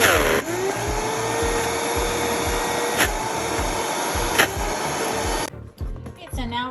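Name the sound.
blender blending chickpeas and pecans for vegan meat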